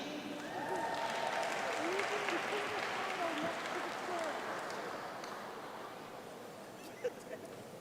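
An audience at a university commencement for master's graduates claps in a sustained, dense round of applause that gradually fades, followed by a couple of faint knocks.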